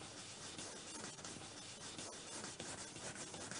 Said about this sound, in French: vous pouvez aussi retirer un peu de cire avec la laine d'acier